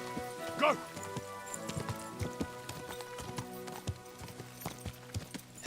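A horse gallops in Kingdom Come: Deliverance 2, its hooves clip-clopping in a quick, uneven rhythm, close and clear over game music and ambience.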